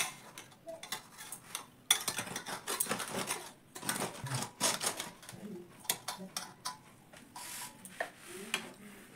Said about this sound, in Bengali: এবার একটা খুন্তি নিয়ে নিয়েছি, খুন্তির সাহায্যে আমি সাবধানে রুটিটাকে তুলে নিব।